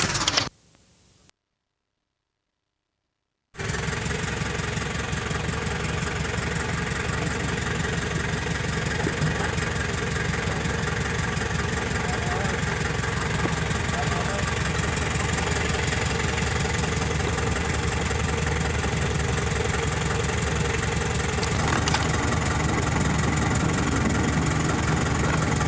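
A tractor engine idles on a Jamaican farm in St Thomas, a steady, loud low rumble with a slight knocking throb that runs continuously after a brief silent gap near the start.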